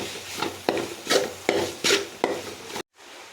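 Tomato sautéed with onion and ginger-garlic paste in a pan is stirred in about six steady, rhythmic scraping strokes, close and fairly loud. A brief silence follows at the end.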